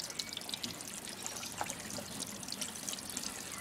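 Water from a pump pours and trickles into a hydroponic tank, a steady close splashing flow at low level, with no talking.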